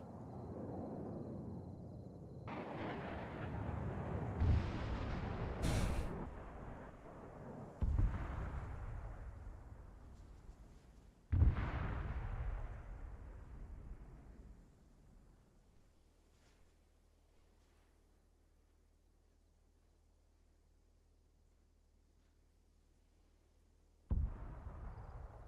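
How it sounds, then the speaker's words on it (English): Explosions and crashing aircraft near an airfield in a video game, a series of heavy booming blasts with long rumbling decays, several spaced out over the span, then a quieter lull before a final sharp boom. "Op4 is actually close enough to hear the explosions from this airfield when stuff crashed"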